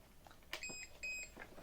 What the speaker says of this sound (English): when you turn it on, you hear 2 beeps